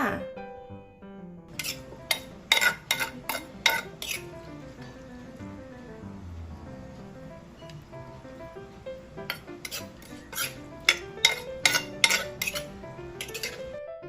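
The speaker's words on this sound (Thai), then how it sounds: "เราก็มาตักใส่จานกันเลยนะคะ" A spoon clinks and scrapes against a plate as a cooked Thai sour bean salad with pork belly is served, with quick clusters of metallic taps near the start and again near the end, separated by quieter stretches.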